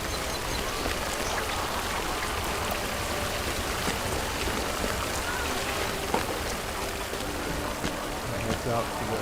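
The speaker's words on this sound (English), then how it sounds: "It's sort of raining here in the southern tier of upstate New York" Rain falls steadily in the southern tier of upstate New York, a dense, even hiss of drops striking surfaces with occasional louder patters, a voice faintly present beneath.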